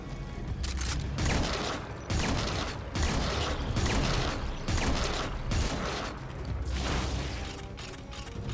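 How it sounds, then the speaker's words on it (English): Shotgun blasts in the video game Metal Gear Survive, fired in steady repeated bursts over dense continuous game noise, each shot a loud booming crack followed by mechanical clatter. "So I go back to the shotgun here, and you see it does just so much damage"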